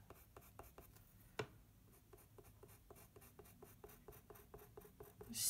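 Small, quick sweeps of a pastel pencil on paper while drawing a kiwi fruit give a soft, rhythmic scratching, a steady series of brief strokes heard close up and fairly quiet.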